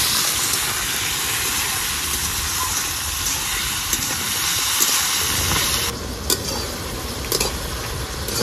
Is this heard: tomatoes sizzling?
yes